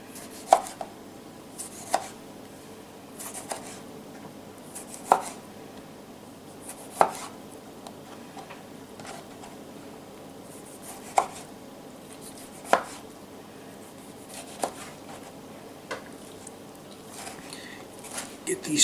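A knife chops food into small square chunks on a cutting board, sharp, close knocks landing every second or two at an uneven pace, while someone talks quietly between cuts.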